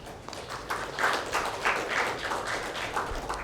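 An audience at a CEO forum lecture hall applauds a guest speaker, distinct clustered claps in an uneven rhythm at moderate volume, with no one talking.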